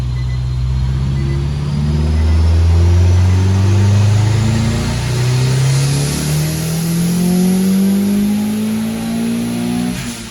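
A tuned custom car engine revs steadily upward during a dyno pull, its loud, continuous tone climbing in pitch for about ten seconds with no talking.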